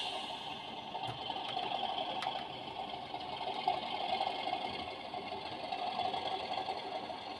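Accurascale Class 37 diesel locomotive in a train simulator game, its engine thrashing with a steady, rough mid-pitched drone and a rattling beat that holds at an even loudness throughout, with no one talking.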